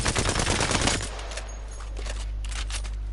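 Automatic fire from the Alternator gun in Apex Legends aimed at a wall, a rapid dense burst of shots lasting about a second, then stopping and leaving a low steady hum.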